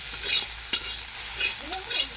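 Carrots frying in a pan, a steady light sizzle broken by several soft stirring scrapes, close but fairly quiet, with no voices.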